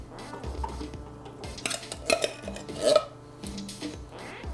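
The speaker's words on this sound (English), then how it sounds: "I'm going to drain the beans in the colander." Organic red kidney beans drained in a colander in a home kitchen, heard as a run of close metallic clanks, scrapes and knocks from the colander and pot, with two louder clatters partway through and no talking.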